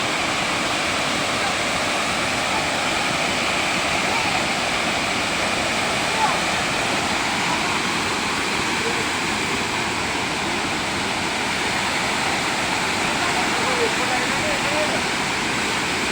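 Waterfall at Sanghagara in Keonjhar, a dense, unbroken roar of rushing water held loud and close for the whole stretch.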